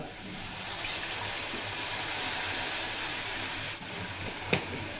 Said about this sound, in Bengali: এরপর দিয়ে দেব পরিমাণ মতো জল